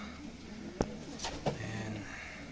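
Racing pigeons at a home loft in the Philippines, back before a derby race, give a couple of soft low coos over faint background hiss, with a few sharp knocks or taps.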